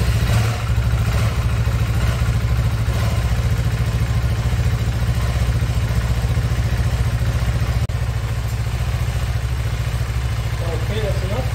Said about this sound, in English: now I'm gonna turn the motor on and let it run a little bit just to get the oil circulated